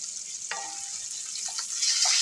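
Half an onion fries in a pan with a steady, fairly loud hiss, a couple of brief scraping stir strokes cutting through the sizzle.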